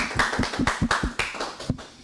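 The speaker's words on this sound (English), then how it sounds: "Give all of our scholars a great round of applause." Round of applause at a school quarterly awards ceremony for young students, a few hands clapping sparsely and unevenly at close range, no talk.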